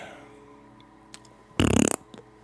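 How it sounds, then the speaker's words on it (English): Short fart sound effect on a livestream, a single buzzy burst about a third of a second long with rapid flutter, loud against a quiet background. "A fart sound has appeared"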